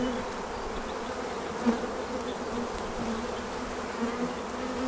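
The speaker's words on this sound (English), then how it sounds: "Lots and lots of bees" Honey bees buzz in an opened hive colony, a steady, dense hum of many insects close by, unbroken and without talk.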